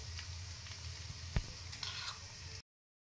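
A ground paste of melon seed, poppy seed, sesame, cashew, raisin and green chili hits hot oil for a cauliflower curry and sizzles steadily up close, with one sharp clink partway through.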